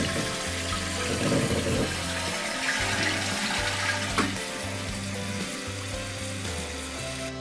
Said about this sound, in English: Flush it a couple times just to make sure.